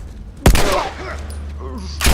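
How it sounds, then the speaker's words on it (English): A hostage is shot in the head in The Last of Us Part 2, heard as a sharp, loud gunshot followed by a second report near the end, with brief game voices in between. "it is really fun to shoot the hostage in the head like that"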